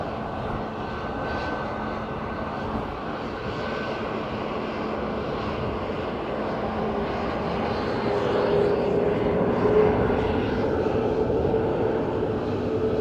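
Airplane landing on runway 28 left at Dublin Airport on a windy morning, a steady, loud engine roar that swells slightly toward the end, heard in the distance with wind noise.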